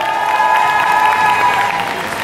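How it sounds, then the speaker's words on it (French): Audience applause at a Paris Manga convention panel fills the space as dense, continuous clapping from a large crowd, loud and steady throughout with no voices over it. "Je vous demanderai d'applaudir chaleureusement Dan Cardozo"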